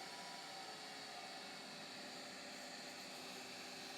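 Machine spinning at about 2,000 RPM while buffing a shaving brush: a steady, faint broadband whir with a constant hum, unchanging for the whole stretch, no voices.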